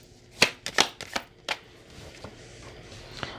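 Tarot cards being shuffled and drawn make several sharp papery slaps and riffles in the first second and a half, then a few softer isolated flicks, close and with no talking.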